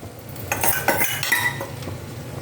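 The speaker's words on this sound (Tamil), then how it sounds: "அப்படி நல்லா மைய அப்படி மாவு மாதிரி இப்படி கடைஞ்சி விடணும்." Rasam ingredients being mashed and churned in a pot into a smooth paste: a few close scraping, clinking strokes of a utensil against the metal over a low background hum, with no talking.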